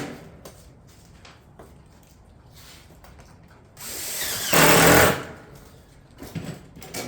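Fasteners driven into Granite Ridge roof shingles with a power nailer or driver, a steady low working hum with a louder sustained burst partway through and a few sharper hits near the end, no talk.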